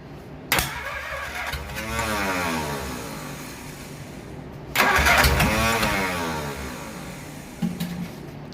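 Cranking bursts from a 1947 Plymouth Special engine with an exhaust valve stuck open: two long rhythmic starter-driven churning runs, each about four seconds, close and loud, with a brief sputter near the end and no talk.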